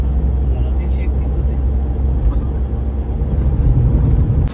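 A car speeds along the Samruddhi expressway at around 115 km/h, a steady low road-and-engine rumble with constant wind and tyre hiss from inside the cabin, and a faint voice at the start.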